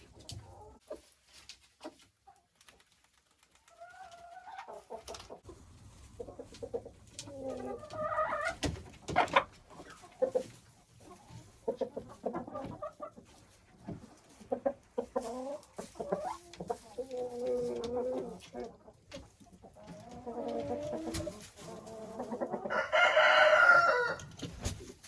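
Hens clucking in a backyard coop, including an old hen, with scattered clucks and calls that build to a louder burst of cackling near the end; no talk.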